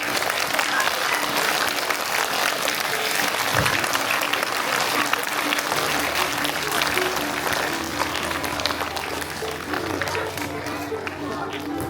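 A school audience claps loudly for a favourite teacher at a Founders Day celebration, sustained dense applause with crowd noise and voices mixed in throughout.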